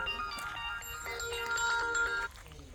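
A mobile phone ringtone plays a short electronic melody close by and fairly loud for about two seconds, then cuts off.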